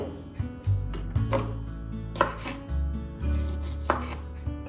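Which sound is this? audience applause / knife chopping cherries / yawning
knife chopping cherries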